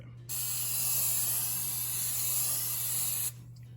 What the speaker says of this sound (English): lightly coat it with cooking spray.